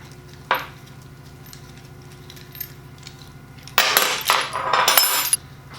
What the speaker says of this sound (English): we can back off this bolt